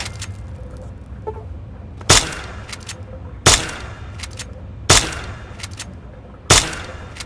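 A beam gun in Fallout 3 shoots at a rat roach: four sharp, evenly spaced shots over a low ambient hum, each a crisp crack with a short decay.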